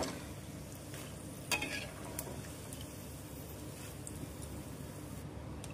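Peanuts frying in hot oil for homemade mixer snack, giving a faint, steady low sizzle throughout with a brief scrape of stirring partway through, with no talking.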